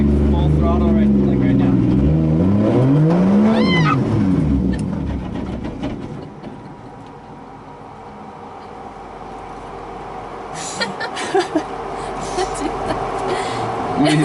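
2JZ-swapped 240SX drift car engine revving, several rising and falling revs under talk at first, then a lower steadier drone fading and building again near the end, loud and close.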